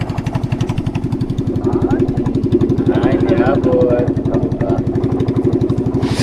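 A motorcycle engine idles close by with a steady, rapid low thrum throughout, while people talk over it.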